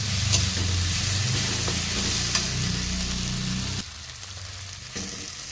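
Fish masala fries in a pan with a steady, close sizzle while a utensil stirs and scrapes through it, with a brief change in the frying sound near the end.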